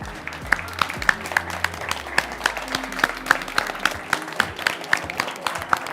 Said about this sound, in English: Big applause for everybody who participated.